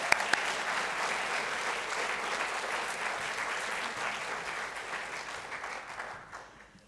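An audience at a keynote lecture on urbanization and the carbon cycle breaks into sustained, dense applause that holds steady for several seconds before tapering off as the clapping fades.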